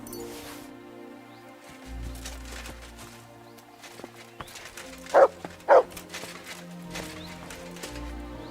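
Dog in the video game Kingdom Come: Deliverance 2 giving two sharp loud barks in the middle, set among quieter game sounds and horse hoof clops.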